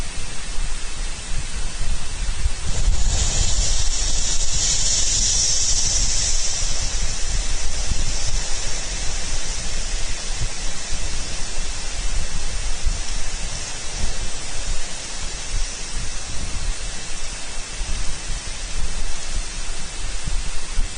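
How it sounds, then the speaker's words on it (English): A hydrothermal explosion at Yellowstone's Black Diamond Pool gives a continuous, dense roar like heavy rushing spray, with a louder surge near the start, steady and unbroken for the whole stretch with no voices. "minor explosion at Yellowstone's Black Diamond Pool."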